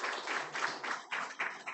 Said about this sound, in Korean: 얼마나 열심히 잘하는지 박수 한번 쳐주겠어요.